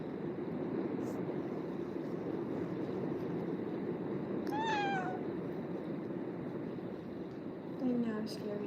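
A pet cat gives a short meow close by over a steady rumbling background of rain and wind during a thunderstorm, with a second faint meow a few seconds later.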